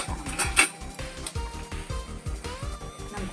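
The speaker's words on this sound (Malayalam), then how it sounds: "നമുക്ക് മൂടി വയ്ക്കാം." A lid is set onto a cooking pot holding an egg cake with fried cashews and raisins, producing a string of close metallic clinks and clatters with uneven rhythm and small bumps between them.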